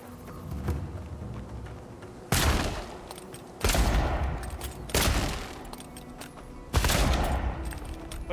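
Gunfire in the fantasy game Avowed comes as four loud, sharp bursts at irregular intervals, each a hard crack followed by a short decay over a steady background hum.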